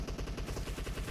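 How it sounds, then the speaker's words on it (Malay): A Groza rifle fires a rapid automatic burst in PUBG Mobile on the Sanhok map, a steady stream of quick shots heard faintly at a distance. "Ini Slayer melepaskan tembakan kat sini"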